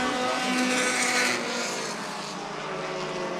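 Race cars in a late-race battle through turns 3 and 4 at Stockton 99 Speedway, their engines roaring loudly in a continuous blended drone that swells and then eases slightly as they pass.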